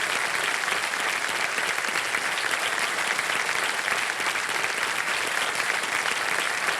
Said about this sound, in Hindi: ताली बजती रहे